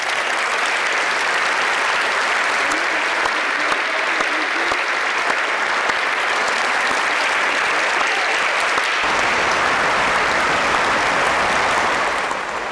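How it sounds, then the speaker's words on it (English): Long, loud audience applause at an awards broadcast, a continuous dense clatter of many hands that holds steady throughout before shifting slightly near the end. "Justified applause for everybody."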